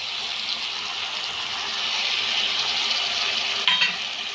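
Vegetables and soy sauce stir-fried for veg fried rice, a steady loud sizzle with hissing spatter and a brief scraping stir near the end.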